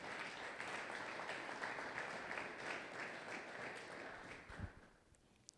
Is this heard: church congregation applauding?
yes